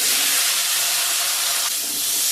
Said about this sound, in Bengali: আলু পটল একসঙ্গে ভেজে নিলাম